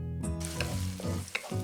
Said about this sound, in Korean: 먼저 파를 달달 볶아 향긋한 파기름을 낸 다음